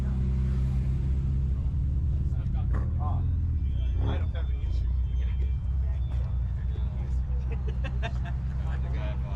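BMW cars rolling into a cars and coffee meet, a steady low engine rumble and drone close by, with scattered clicks and people talking over it.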